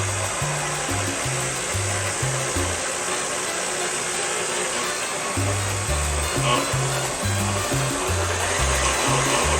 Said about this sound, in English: My mixer sounds like it's on its last leg.